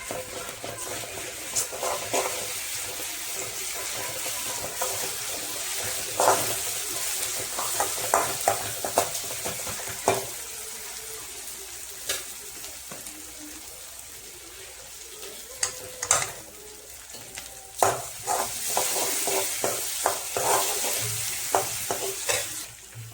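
Green chilli paste fries in a hot pan with a steady sizzle while a spoon repeatedly scrapes and stirs against the metal. It is close and continuous, with no talking.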